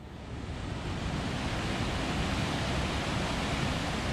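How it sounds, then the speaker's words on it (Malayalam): Water gushes through the partly opened shutters of Bhoothathankettu dam, a loud, steady roar of rushing water with no break and no voices. "അതുകൊണ്ട് വെള്ളം നല്ല കുത്തി ഒഴുകുന്നുണ്ട് കേട്ടോ."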